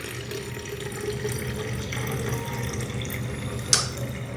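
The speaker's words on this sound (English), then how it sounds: "it is time to pour the salted water into the neti pot" Salted water is poured into a neti pot as a steady, close trickle running for several seconds, ending with a small sharp clink.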